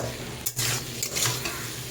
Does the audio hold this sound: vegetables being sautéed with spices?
yes